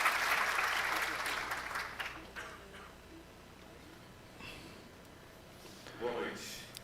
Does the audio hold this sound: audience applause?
yes